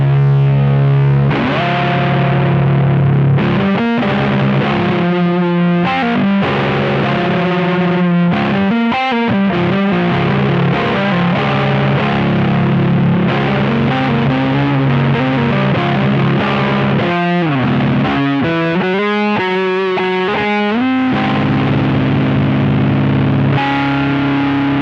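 Electric guitar played through a Seymour Duncan Powerstage 100 amp into a 16-ohm cabinet, loud and heavily distorted with chorus-like effects, steady riffs and chords running the whole time with no talking.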